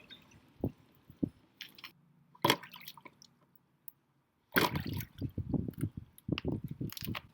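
Water in a small tsunami model sloshes and splashes as two shampoo bottles are pushed together, giving scattered drips and wet squishing, then a louder burst of churning splashes after a brief silence.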